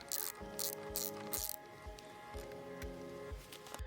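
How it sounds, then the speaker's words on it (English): A ratchet clicks close by while loosening the negative battery lead on a Triumph motorcycle, in short bursts of rapid pawl clicks with a few pauses between strokes. "Unscrew the leads from the old battery, first the negative."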